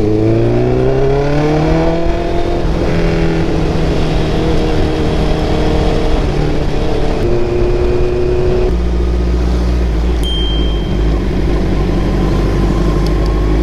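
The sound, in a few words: Honda CBR650R sportsbike accelerating to overtake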